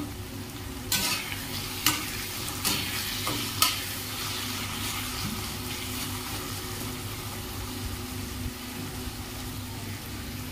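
Fish curry masala is stirred and fried in a pan, with a continuous sizzle broken by several sharp spoon scrapes and knocks early on, then a steadier fry with no talking.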